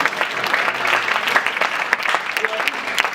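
Steady applause from a summit audience after a political speaker's remark, a dense wash of many hands clapping at even loudness throughout.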